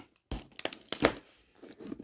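Thin cardboard packaging of a Lego Agents 8630 Gold Hunt set being pierced and torn open with a pen, a few sharp ripping and crinkling bursts with short pauses, close up, no talk.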